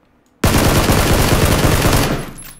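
Loud, sustained burst of rapid gunfire lasting under two seconds in the PUBG battle royale game, starting abruptly and tailing off at the end.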